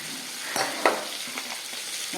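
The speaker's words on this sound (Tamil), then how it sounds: "வெங்காயம் ஒரு அரை வதங்கு வதங்கி வரணும் இதுக்காக நான் கொஞ்சம் உப்பு போட்டுக்கிறேன்" Onions frying in a pan with a pinch of salt for a raw banana curry, a continuous near sizzle broken by a few sharp stirring scrapes, no voices.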